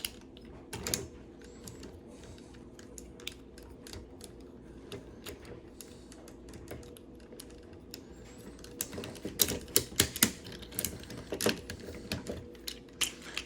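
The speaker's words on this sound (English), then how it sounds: "So we're gonna go ahead and fold the hands back into place." The joints of a Soul of Chogokin GX-69 Goldymarg toy figure click as its hands are folded back into place, giving irregular small plastic ticks that grow busier and louder toward the end, with no voices.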